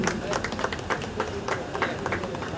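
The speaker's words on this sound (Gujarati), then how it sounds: "મિત્રો સૌને આપણે જોરદાર તાળીઓથી વધાવી લઈએ" An audience at a taluka-level Van Mahotsav tree planting festival in Vapi claps in a dense, steady patter of applause throughout, fairly loud and close, with voices mixed in.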